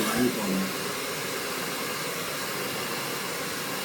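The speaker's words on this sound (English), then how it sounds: "keep the blow dryer moving constantly, rolling your brush into the root area with your barrel curl." A blow dryer runs steadily while hair is dried and curled on a round brush, giving a constant airy whoosh; a brief handling bump comes at the start.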